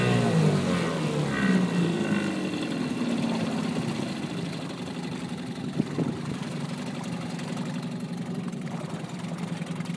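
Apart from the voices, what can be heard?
1967 Evinrude Lightwin 3hp twin outboard motor running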